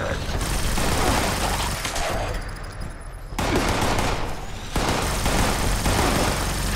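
Gunfire aimed at the player in Fallout 76 comes as dense automatic bursts and loud repeated shots, with a brief lull near the middle before another volley.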